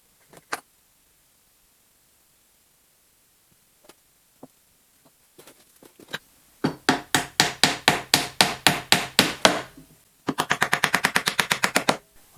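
Wooden dowels are hammered into a wooden orbital sander holder: scattered single taps first, then two fast runs of sharp, loud, evenly spaced blows close by, separated by a short pause.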